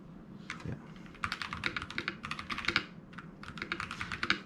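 Rapid, crisp clacking of keys typed on an FL-ESPORTS CMK87 mechanical keyboard, close and clear, in quick bursts with brief pauses between runs.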